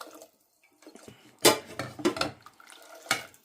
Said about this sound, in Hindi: अब हम इसमें डाल रहे हैं जी दूध।